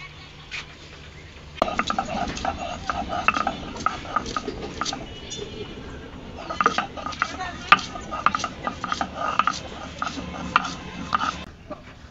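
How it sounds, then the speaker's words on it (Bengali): Chillies ground on a shil-pata grinding stone, with repeated scraping and knocking strokes of the stone in an uneven rhythm, close and fairly clear. "এখন আমি একটি শিলপাটায় বেটে নিব।"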